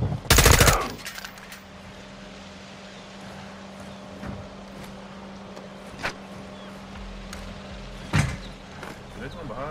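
Automatic gunfire in the video game Call of Duty: Modern Warfare II, with a loud close burst at the start followed by scattered single shots and impacts over a steady low hum.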